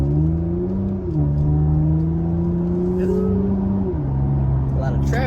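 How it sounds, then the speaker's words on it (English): Road traffic on a cold Sunday: a steady engine drone with several gear shifts as vehicles pass, plus faint whooshes of other cars and a brief rising whine at the end. "A lot of traffic out today"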